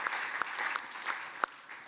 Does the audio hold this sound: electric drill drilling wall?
no